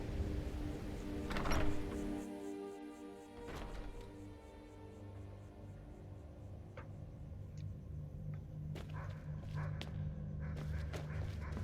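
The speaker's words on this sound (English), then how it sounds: "I hear a dog barking too." A dog barks a few times in the Skyrim video game, faint and distant among the game's ambient rumble and scattered effects, with no talk over it.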